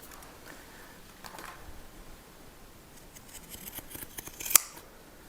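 A few quiet snips and crisp scissor clicks cutting beeswax-wrap fabric, with one sharper cut near the end, against a soft background hiss.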